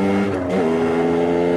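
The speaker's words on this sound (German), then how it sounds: "das ist meine Derby Center DRD Extreme 2013er Baujahr. Sie hat 50 Kubik" A 2013 Derby Senda DRD Extreme 50cc motorcycle buzzes loudly and close up, its small engine holding a steady high drone with a brief dip and rise in pitch, heard with no voices.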